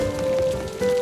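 Steady cartoon storm rain hisses on a surface in a brief, even wash, with a faint sustained tone running underneath.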